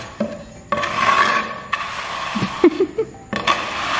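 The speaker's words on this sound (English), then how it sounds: "And now we trowel." A trowel scrapes and rubs across freshly poured wet concrete at a horse barn build, in repeated gritty strokes separated by short pauses, close up.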